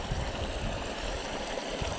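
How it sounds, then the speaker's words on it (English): A small spring stream in Sheyenne River State Forest, North Dakota, runs beneath a little footbridge, giving a steady, close rushing and gurgling wash that fills the whole clip without pause. "here's some running water here"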